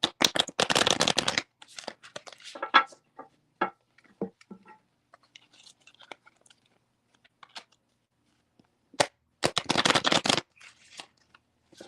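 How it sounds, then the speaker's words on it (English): Tarot cards shuffled by hand in two loud riffling bursts at the start and near the end, with quieter scattered card taps and handling noises in between. "I'm going to shuffle these cards"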